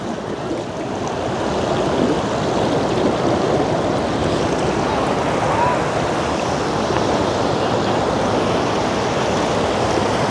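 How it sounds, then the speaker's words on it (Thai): Steady rushing water flows loudly and continuously outdoors, a broad constant wash with wind buffeting the microphone throughout. "น้ำไหลพี่น้องเนาะ"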